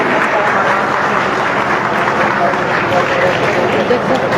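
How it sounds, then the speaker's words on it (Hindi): Loud, sustained applause and crowd noise fill a political rally in Safidon as Satpal Maharaj arrives, a steady dense roar of clapping with voices mixed in throughout. "जोरदार ताली"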